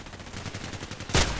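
A single Glock 18 shot in a first-person shooter game cracks out loud and close near the end, over a steady low rumbling game background.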